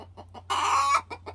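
Broody Whiting True Blue hens, black and white, clucking in a hoop coop: short soft clucks repeat at a steady pace, broken by one loud, harsh drawn-out squawk in the middle, all close by.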